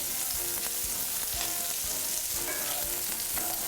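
Bacon and onions fry in a pan with a steady, close sizzle and crackle, broken by frequent sharp pops and spits that come through clearly, with no voices at all.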